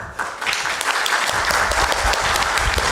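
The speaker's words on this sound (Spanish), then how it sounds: "Un fuerte aplauso, por favor." Audience applause fills a lecture hall on democracy in the twenty-first century, a dense, steady wash of many hands clapping that holds loud and even for the full few seconds with no talk over it.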